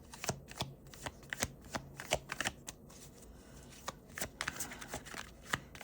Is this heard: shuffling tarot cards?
yes